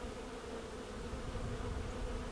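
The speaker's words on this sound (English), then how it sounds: "The blossoms are a magnet for bees and other insects, and their buzzing fills the air." Bees and other insects swarm desert tree blossoms in a dry arroyo in early May, giving a continuous, even buzzing drone with no speech.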